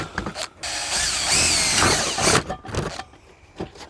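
A power drill bores small holes for cable ties: one steady, close whirring burst of about a second and a half, with handling clicks and knocks before and after.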